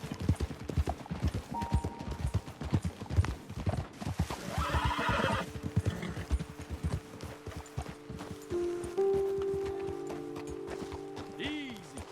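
Horses in Red Dead Redemption 2 on PS4 clop along with a steady hoofbeat rhythm, and a loud whinny rises midway while voices talk.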